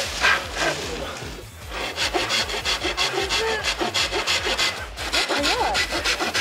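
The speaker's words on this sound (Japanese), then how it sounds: "さっき切ってもらったやつをノコギリでまた切って" A handsaw cuts through a piece of bamboo in quick, rhythmic back-and-forth strokes, close and steady, with one brief pause.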